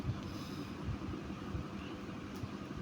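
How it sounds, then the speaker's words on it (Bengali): Low, continuous rumbling of a train rolling steadily over the Jamuna rail bridge, about five kilometres long, at night, with a soft rhythmic thumping of wheels in the background. "আমরা এখন যমুনা রেল সেতু দিয়ে পার হয়ে যাচ্ছি"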